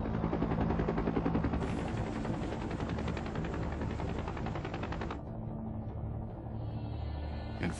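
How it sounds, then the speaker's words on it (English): Military helicopters fly low at treetop level over a landing zone, a loud, dense rotor chop and roar filling the scene continuously before partly dropping away near the end, with a sharp rattling texture throughout. "the choppers drop to treetop level"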